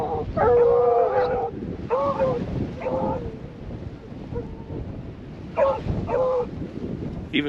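A dog barks outdoors in short, repeated bursts with whimpering yelps in between, close and fairly loud, while wind buffets the microphone.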